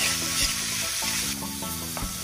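Seasoning paste for meatballs (bakso) stir-frying in a pan, a loud close sizzle with a few soft knocks of a utensil stirring.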